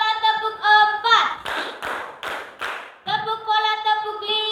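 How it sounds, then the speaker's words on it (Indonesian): Sixth-grade primary school children in a classroom play a clap game, chanting in unison and then striking three loud, evenly spaced claps together before the chanting resumes. "Tepuk bola 3 kali."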